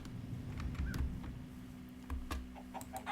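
Chicken clucking in the video game Minecraft, a few short clucks over a steady low background hum, with no talking.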